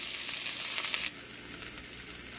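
Onions and sausage sizzle in a pan, giving a steady bright frying hiss that drops to a softer crackle partway through.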